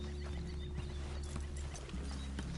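Horse hooves clip-clop steadily in the Red Dead Redemption 2 video game, and a short whinny rises over a constant low rumble of ambience.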